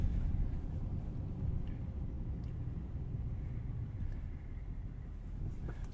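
A 2020 Chevy Silverado 2500 Duramax diesel truck drives along, a low, steady cabin rumble with faint wind noise and no talk.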